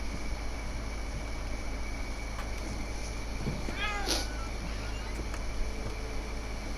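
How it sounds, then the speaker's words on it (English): Cat in What Remains of Edith Finch gives a single short meow near the middle, fairly faint over a steady hiss of background ambience, with no talk. "No way the cat's still here."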